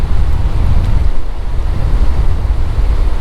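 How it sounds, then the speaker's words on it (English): Ocean waves of two to three feet roll in on a windy beach, a loud continuous rumble of surf mixed with heavy wind buffeting the microphone. "2 and 3 foot waves coming in shore"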